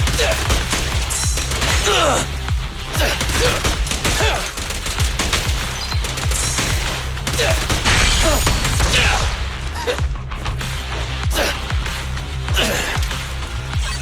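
Dense, rapid gunfire from the Zenless Zone Zero video game, sustained bursts of overlapping shots that rattle continuously at close range with mechanical clicks.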